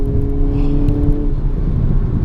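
A 2022 Hyundai Kona N engine pulls hard under acceleration, a loud, close, droning exhaust tone with a steady rising note that fades into rougher road rumble partway through.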